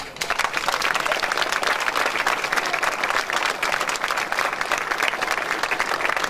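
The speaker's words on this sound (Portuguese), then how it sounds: "foi aqui o Sr. João Agostinho, que merece uma boa salva de palmas" Audience applause at a concert during local village festivities, a sustained dense round of many hands clapping, loud and even from start to finish with no break.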